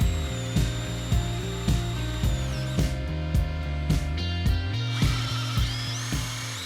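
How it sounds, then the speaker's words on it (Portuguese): A Forstner drill bit bores into a wooden gift box, giving a steady mechanical whir broken by a regular series of sharp ticks and knocks, close and continuous, with no voices. "Eu insisti na broca Forstner para tirar os excessos aqui daquela ponta interna"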